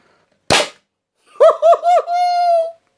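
A homemade combustion paintball gun, made without CO2, fires once with a sharp, loud pop, followed after a pause by laughter.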